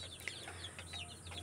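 Chickens on a farm, among them a sick bird, make soft, faint clucks over a low steady background hum.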